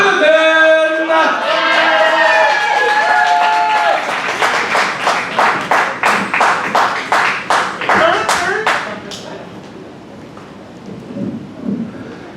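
At a Dayton, Ohio poetry slam, cheering voices and clapping open the moment, then settle into a run of distinct, rhythmic hand claps before fading to quiet room noise.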